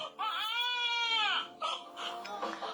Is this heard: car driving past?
no